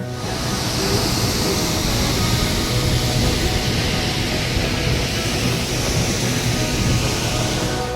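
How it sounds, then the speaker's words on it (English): Constant rushing of falling water, a small waterfall at Lake Nakuru, Kenya, with a steady broadband roar, close and unbroken for several seconds. "There was also a mini waterfall within Lake Nakuru."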